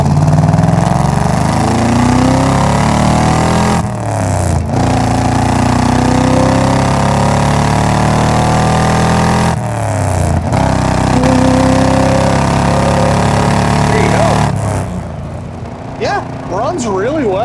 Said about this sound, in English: That exhaust note sounds good. It's not too terribly loud, but it does have aftermarket headers, full dual exhaust, Magnaflow mufflers with the tips coming out in the back.